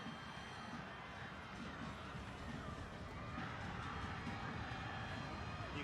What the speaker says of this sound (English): You can hear the crowd urging